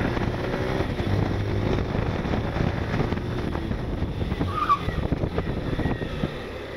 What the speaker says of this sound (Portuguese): Apesar de arrastar a roda traseira, o comportamento do freio para mim foi satisfatório